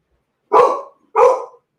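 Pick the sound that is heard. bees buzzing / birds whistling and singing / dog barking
dog barking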